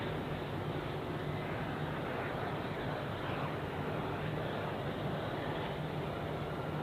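An Airbus A330 at Zurich Airport gives off a low, steady engine roar and broadband rumble, heard from a distance at a constant level with no voices.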